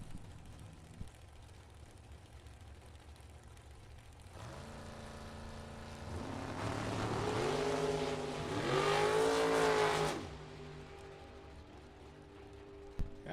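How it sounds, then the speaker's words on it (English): A roaring rear-engine dragster swells, surges and drops as the throttle is worked on and off at the finish line of a drag race, then settles back to a low idle. "You could hear him off and on the throttle at the finish line."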